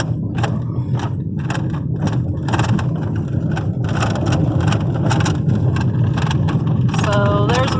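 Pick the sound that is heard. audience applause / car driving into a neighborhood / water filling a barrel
car driving into a neighborhood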